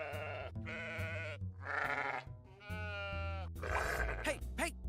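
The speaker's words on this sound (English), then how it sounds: "Hey, stop threatening my sheep." A sheep bleats several times in a row, wavering cries loud and close, with short gaps between each call, in a rural farm setting with no talk over it.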